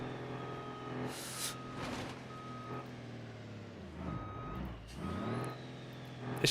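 A truck in the BeamNG Drive driving game reverses with steady, evenly spaced beeps over a loud engine rumble, with a short burst of air-brake hiss partway through.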